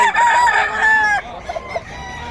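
Boston White gamefowl rooster crowing loud and close, one drawn-out cock-a-doodle-doo followed by a few short clucks.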